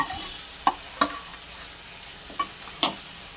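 Sautéed crab stirred into drumstick stalks in a pan: a soft, steady sizzle with a few sharp clacks of a spoon against the pan, close and without talk.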